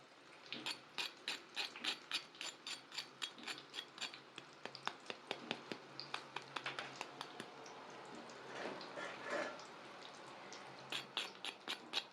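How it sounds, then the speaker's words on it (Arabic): Crispy fried cauliflower crunching, a long run of sharp, dry crackles and clicks in a fairly regular rhythm, close and quiet, with no one talking. "بص اسمعي القرمشه هنا عامله"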